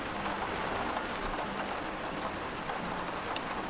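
Steady rain pours on a rainy map in the Arma 3 military shooter, a dense, even hiss of drops throughout, with no talk over it.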